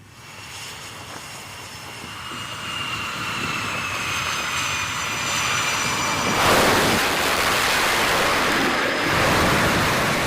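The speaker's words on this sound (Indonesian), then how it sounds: "Jet tempur Super Hornet Angkatan Laut Amerika Serikat lepas landas dari kapal induk" A US Navy Super Hornet fighter jet takes off from the aircraft carrier USS Abraham Lincoln, its engine roaring loud and rising, growing to a harsh blast near the end over wind and sea noise.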